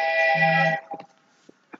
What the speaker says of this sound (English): I am so sorry, y'all. That was my phone.